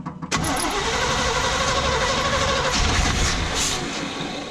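An old Honda C50 motorcycle that has sat unused for years is being started, its engine catching and running loudly and steadily at close range.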